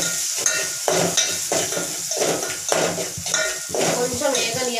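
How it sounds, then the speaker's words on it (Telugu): Garlic with turmeric and salt fries in a pan, a close steady sizzle broken by repeated scraping stirs of a utensil against the metal at a regular rhythm. "కొంచెం వేగనియాలండి, పచ్చి వాసన ఉండేంత వరకు కొంచెం వేగనిచ్చుకున్నాను"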